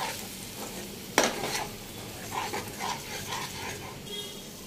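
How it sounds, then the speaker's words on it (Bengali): A spice masala is sautéed in oil for pasta, giving a soft, low sizzle with a sharp utensil knock and a few light stirring scrapes, fairly quiet and without talking. "এবার তেলের মধ্যে এই মশলাটা দিয়ে দিচ্ছি।"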